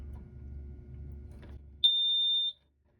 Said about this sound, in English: if we take a screwdriver and push the float up, we should get an alarm. This will probably be loud.